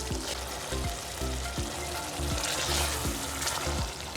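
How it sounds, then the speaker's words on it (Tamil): Mutton intestine curry (kootu) boils and sizzles in a pan as the oil separates to the surface, a close, steady frying hiss with a repeating bubbling pulse and no talking. "இப்போ பாருங்கள் நல்லா கொதிச்சு எண்ணெயெல்லாம் பிரிஞ்சு மேலே வந்துருச்சு."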